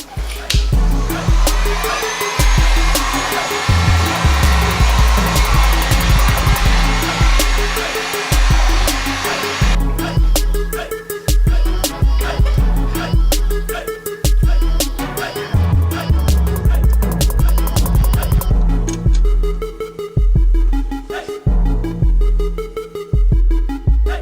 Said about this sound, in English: we're going to go ahead and warm it up with the heat gun